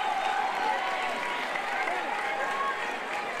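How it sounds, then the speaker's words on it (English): A stadium crowd roars in a sustained, fairly loud swell at a men's U19 SAFF Championship football match between India and Nepal, with a voice running over the noise. "Huge cheer from the crowd."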